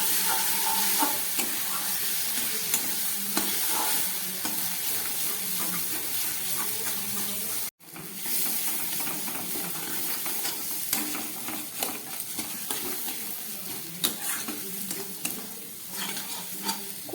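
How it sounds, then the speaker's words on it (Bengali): Spice masala for rita tengra fish curry stir-fried in a pan, a continuous dense sizzle with repeated scraping stirs, close and steady, with one brief break partway through. "ভালো করে কষিয়ে নিচ্ছি মশলা"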